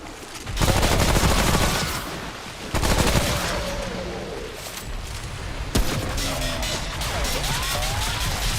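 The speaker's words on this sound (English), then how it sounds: "Gotta wait till he's done shooting." Enemy gunfire in the game Remnant: From The Ashes, loud dense bursts of rapid shots with sharp cracks and rumbling echoes, heavy at first then thinning to scattered reports and a final sharp blast.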